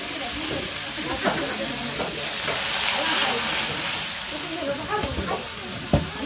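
Meat is stir-fried in a large pot for a big crowd at a Hmong memorial rite: continuous sizzling and hissing with scraping stirs and occasional clanks, close by, while voices chatter in the background.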